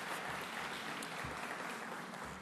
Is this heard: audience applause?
yes